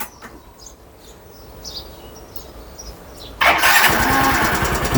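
A Yamaha Grand Filano scooter engine fitted with a 20F 16V supercapacitor cranks and catches abruptly, roaring into a loud, steady idle after a quiet stretch with faint birdsong.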